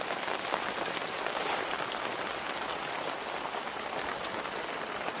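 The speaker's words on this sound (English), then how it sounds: "Because it's raining a lot now." Heavy rain pours steadily during a boat trip, a dense, loud, continuous hiss of drops striking surfaces with no pauses, nearby and unbroken throughout.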